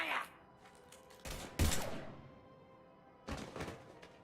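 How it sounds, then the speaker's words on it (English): Gunfire bursts from a sci-fi firefight in the game Mass Effect: a loud sharp crack followed by a second heavier burst, then another volley near the end, over a low game ambience with faint voice underneath. "Now open fire!"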